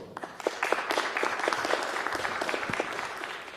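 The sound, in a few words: audience applause welcoming speakers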